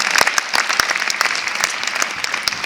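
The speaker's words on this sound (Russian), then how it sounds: "Мне хочется, чтобы вы поаплодировали этим людям, которые заслужили" Applause from an audience at a Nowruz celebration in Moscow, honoring people being thanked: brisk, uneven clapping from a modest crowd, close and moderately loud, with individual claps standing out.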